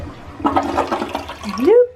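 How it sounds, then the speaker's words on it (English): A household toilet flushes close by, a broad rushing swirl of water that builds and ends in a rising gurgle as the bowl drains and refills, heard alone without talk. "go in and flush your toilet"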